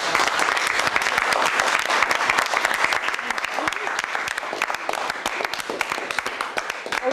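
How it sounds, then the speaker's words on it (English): An audience at a student portfolio defense claps in sustained, dense applause, with individual sharp hand claps standing out through the steady crowd clapping. "So let's give Yvonne a huge round of applause."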